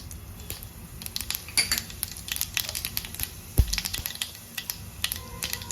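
Mustard seeds crackle and splutter in hot oil as cumin is tipped in for a seviyan upma, a dense run of sharp close pops and crackles with one heavier thud partway through, no talk.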